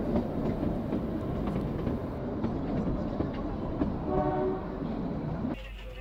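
The Kalka-Shimla toy train runs through rhododendron forest with a steady rumble and clatter of wheels on rails, and a brief tonal horn-like note rises near the end.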